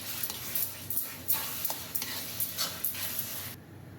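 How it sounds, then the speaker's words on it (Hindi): Brinjal is stirred into tomatoes frying in oil for baingan bharta, with repeated scraping stirs in an irregular rhythm over a soft sizzle, fairly quiet and close, cutting off abruptly near the end. "अब हम इसमें बैंगन ऐड कर देंगे और इसे अच्छे से मिक्स कर देंगे"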